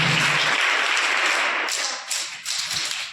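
A group claps in welcome for arriving guests at a ceremony, a steady, loud wash of many hands that runs nearly the whole time, with a brief dip and swell near the end and little talk over it.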